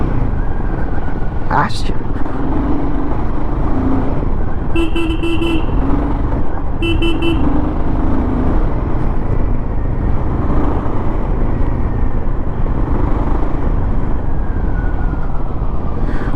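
A Royal Enfield Himalayan 452 motorcycle rides over a bad, rough road, its engine and wind rumbling steadily with a couple of short horn toots partway through and a brief spoken word.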